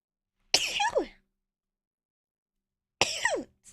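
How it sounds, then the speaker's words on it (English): Two short, sharp bursts from one person after sipping strong ginger beer, each a sneeze or cough-like expulsion about half a second long, separated by silence, close and fairly loud. "Oh, wait, I do need to sneeze."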